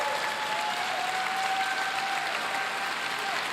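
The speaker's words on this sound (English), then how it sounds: "Can we give them another round of applause" An audience claps steadily in a hall at a YMCA speaking event, a dense even wash of applause lasting a few seconds at moderate distance.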